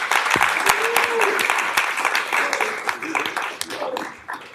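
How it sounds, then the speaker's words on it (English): Audience at a city commission meeting applauds steadily and loudly throughout, dense clapping that tapers slightly near the end, with brief voices and a faint dog-like yelp mixed in. "y'all got to give a round of applause for that"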